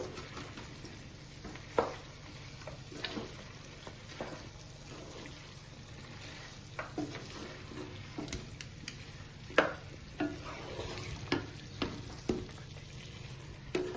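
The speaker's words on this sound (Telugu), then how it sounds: "ఒక 1 మినిట్ హై ఫ్లేమ్లో పెట్టి కట్టేసుకుంటే చికెన్ ఫ్రై అయిపోయినట్టే ఫ్రెండ్స్" Chicken fries over high flame with fresh curry leaves and chillies, a soft sizzle beneath frequent scraping and tapping stirs in the pan, fairly quiet and close.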